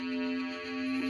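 Robotic synthesized speech from the Berzerk game on a Vectrex with Atarivox+, a flat monotone voice at steady pitch, heard alone and moderately quiet.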